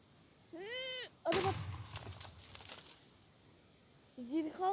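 A loud burst of a video game explosion blowing up a bell, followed by a crackling, rumbling decay, with a meow-like voice before it and again after.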